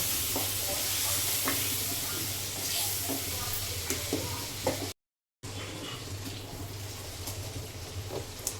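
Oil sizzles and hisses in a pan as garlic-ginger paste goes in, with scattered crackles and stirring clicks, briefly cut to silence midway before the sizzling resumes.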